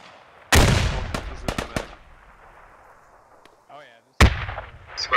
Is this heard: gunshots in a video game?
yes